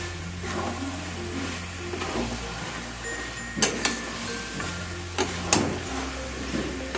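Fish head and cabbage curry with leaves is stirred in a pan, soft scraping and rustling with a few sharp clinks of the utensil against the metal, close, over a low hum.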